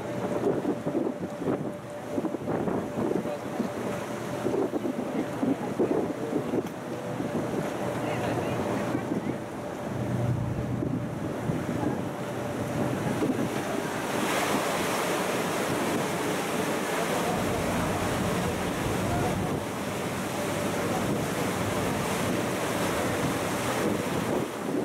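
Canal tour boat cruising through Copenhagen's canals from Nyhavn and passing under a bridge, a steady engine drone with water wash and gusty wind buffeting the microphone, continuous and fairly loud with faint talk in the background.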